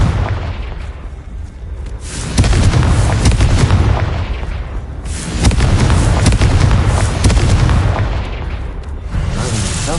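Fiery blasts from a Confringo spell in the Hogwarts Legacy video game boom loudly in three rolling waves, each a sustained rumbling burst with crackling debris, close and heavy.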